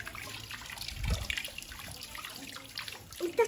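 Cold water runs from a hose in a steady, hissing trickle, moderately close, with splashing bursts and some handling noise partway through.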